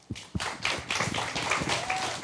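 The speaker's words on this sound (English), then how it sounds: "let's give everyone here a round of applause" A small group claps at a conference panel, starting with a few scattered taps and building into brief, steady applause close by.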